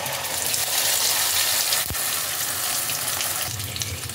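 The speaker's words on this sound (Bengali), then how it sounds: "ওই তেলের মধ্যে আমি দিয়ে দিচ্ছি ডিম দিয়ে মেখে রাখা বেগুনটা।" Eggplant coated in beaten egg drops into hot white oil and fries with a loud, steady, dense sizzle that continues throughout, with a brief thump partway through.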